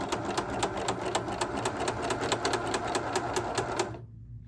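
A sewing machine stitches a hem with the presser foot lowered, giving a steady, rapid, loud mechanical chatter that runs evenly and then stops abruptly near the end.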